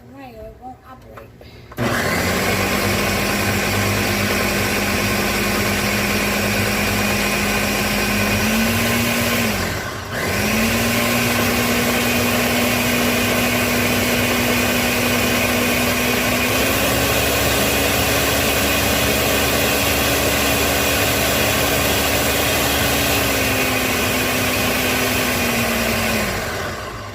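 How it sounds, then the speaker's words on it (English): Kitchen blender whirring steadily while blending sofrito ingredients, loud and close, with a brief dip in motor pitch partway through before it resumes and rises slightly. "We're going to blend in all of our ingredients."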